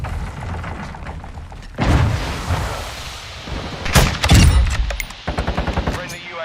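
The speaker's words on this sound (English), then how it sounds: "Stun grenade out!" Gunfire and blasts in Modern Warfare II, with a loud broadband burst from a stun grenade going off among rapid shots. Sharp repeated reports follow near the end, and faint voices sit under the battle noise.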